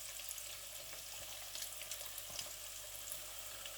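Chicken pakoras frying in hot oil over medium heat give a steady, moderately loud sizzle and crackle that runs continuously with small pops.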